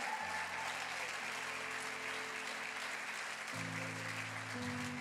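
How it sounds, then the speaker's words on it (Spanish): A church congregation applauding steadily for several seconds, a dense even wash of clapping held at moderate distance with a low background tone underneath. "Dele un aplauso ahí al Señor."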